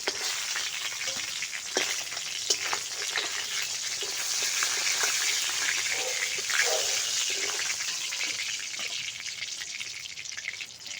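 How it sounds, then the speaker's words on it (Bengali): Pieces of silver carp fry in hot mustard oil with a dense, steady sizzle and crackle, plus occasional spatula taps and scrapes, close and without talk. "এইভাবে সব মাছগুলি ভাজে"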